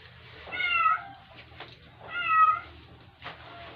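A cat meows twice in drawn-out, wavering calls about a second and a half apart, close and clear over a low background hum, with a fainter shorter sound after the second.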